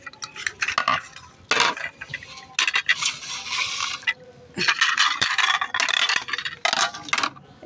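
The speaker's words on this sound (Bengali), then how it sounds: "চামচ দুটা তাহলে কটা হলো পাঁচটা পাঁচটা" Spoons being handled at home, giving repeated bright metallic clinks and clatters in bursts with short pauses, close and fairly loud, no voices.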